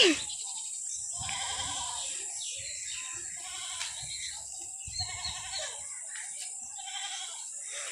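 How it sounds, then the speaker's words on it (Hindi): A small goat, heard from a rooftop, bleats several times at a distance against a steady high background hiss. "वो देखो छोटी सी बकरी।"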